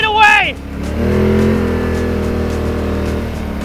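An ATV engine drones at high revs as the quad races down a straightaway, with a steady roar that holds for several seconds. Excited voices are heard briefly at the start.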